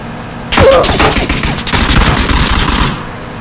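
Heavy gunfire in PUBG at the Pecado map, with dense overlapping automatic bursts from two teams firing at once, loud and sustained for about two and a half seconds.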